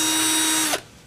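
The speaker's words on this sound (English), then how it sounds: "a drill with a 1/4-inch drill bit" Power drill fitted with a 1/4-inch bit boring a hole for a terrarium column project, a steady high whine running for most of a second before cutting off abruptly.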